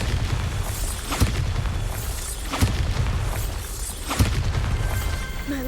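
In Hogwarts Legacy, Bombarda spell explosions go off as deep booms about every second and a half, loud and close over a rumbling battle background with magical whooshes.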